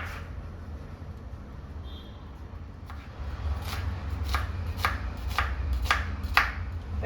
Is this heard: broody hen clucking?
no